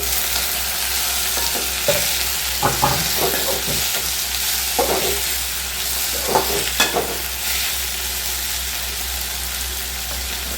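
Tomatoes are stirred into ginger garlic paste and green chili paste frying in a pan for egg omelette kulambu, with a steady sizzle and intermittent scraping stir strokes throughout.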